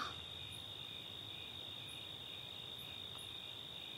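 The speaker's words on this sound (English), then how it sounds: "Those birds calling, even the crickets." Crickets chirp in a continuous high, even trill, steady and moderately faint throughout, with no voices and no other sounds.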